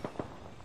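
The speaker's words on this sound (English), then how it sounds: "The enemies are shooting at me." Enemy gunfire in the battle royale shooter Apex Legends, two quick, close pops followed by fainter scattered reports in a very short burst.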